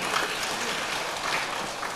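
A packed audience at an Islamic sermon gathering in Gresik claps in a steady, dense patter of hands that holds for a couple of seconds, heard from within the crowd.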